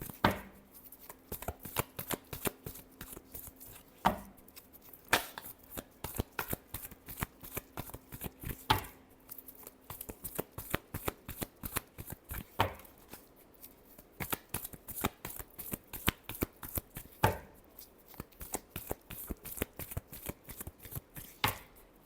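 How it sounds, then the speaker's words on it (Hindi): Tarot cards being shuffled by hand, close and quiet, with quick riffling bursts and sharp slaps as the deck is squared, repeating in an irregular rhythm; no talking. "Last shuffle."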